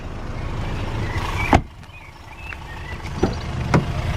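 Electric windows on a Kia Sportage 2.0 AWD with six-speed gearbox, whirring in short motorised runs inside the car, punctuated by a few clicks and thumps.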